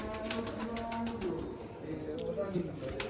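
Dub-wale pigeons from the Mian Nazir bloodline coo on a rooftop loft: soft, low, repeated cooing close by, mixed with a man's quiet speech and light background noise.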